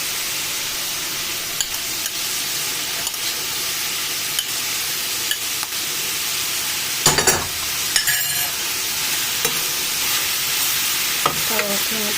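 Steady, close sizzling of liver frying in a pan, with occasional scraping and clinking from stirring; no one speaks.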